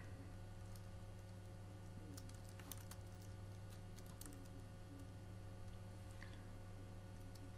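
Keys clicking at a close computer keyboard as a name is typed, with scattered light taps over a steady low electrical hum and no voices.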